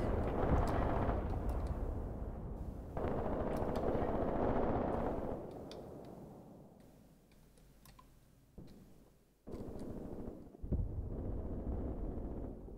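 Panzer IV tanks firing in Graviteam Tactics: sharp booming cannon shots and crackling gunfire break through rumbling battle noise that swells, fades, then surges back loud.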